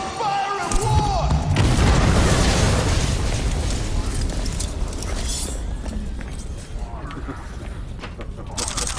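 Grenade blasts in Cyberpunk 2077, a loud booming explosion with a long rumbling, crackling aftermath that slowly fades, voices talking over it.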